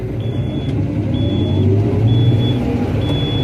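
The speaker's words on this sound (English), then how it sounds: "Rev her back up." A harvest machine's engine revs back up, a loud, close mechanical rumble that rises in pitch, with a high beeping alarm sounding at regular intervals over it.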